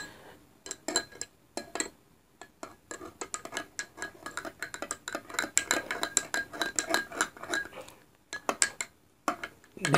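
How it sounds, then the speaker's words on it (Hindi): A spoon stirs cumin powder into a drink in a glass, making rapid, irregular metallic clinks and taps that run nearly continuously, with a couple of brief pauses, close and clear. "इस तरीके से इसको मिला लीजिए और आप इसको अच्छे से मिक्स कर लीजिए इसमें ड्रिंक में।"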